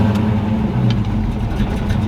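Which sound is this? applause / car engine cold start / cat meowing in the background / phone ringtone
car engine cold start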